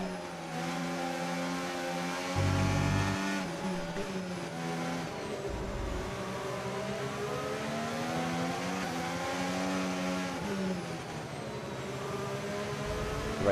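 Simulated race car engines from a racing video game at the Zandvoort circuit, a steady loud multi-engine drone with rising and falling pitch sweeps as the cars accelerate, continuous throughout.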